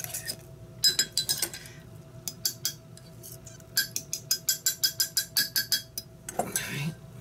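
A spoon clinks rapidly against the sides of a mug while stirring keto chocolate mug cake batter, a close run of bright, rhythmic taps and scrapes with brief pauses between bursts.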